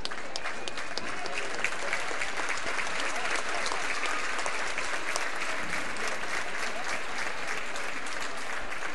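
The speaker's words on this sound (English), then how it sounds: "Great round of applause there for Cade Moore." Basketball tournament crowd applauding an injured player Cade Moore, steady, even clapping from a gym audience heard at moderate distance throughout, without a break.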